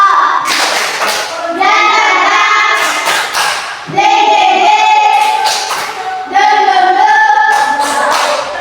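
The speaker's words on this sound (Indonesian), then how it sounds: "Tepuk semangat." A classroom of schoolchildren does a rhythmic spirit clap, bursts of hand claps and thumps in patterned groups with voices chanting along, loud and close throughout.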